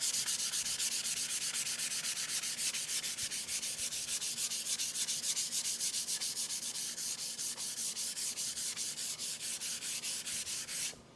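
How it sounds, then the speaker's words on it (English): Steady, rhythmic rasping of a fine sanding pad, around 220 grit, rubbed back and forth over cherry wood, continuous for several seconds, close up with no voices. "we're going to sand this and get kind of the raised areas down"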